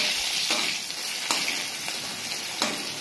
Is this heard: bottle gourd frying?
yes